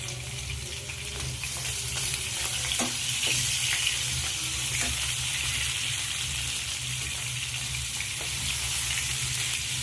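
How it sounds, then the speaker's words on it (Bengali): Masala-coated fish fries in oil in a pan, a loud, dense, continuous sizzle and crackle that holds steady throughout, close up and with no talking. "মাছটা আমি খুব ভালো করে ভেজে নিচ্ছি।"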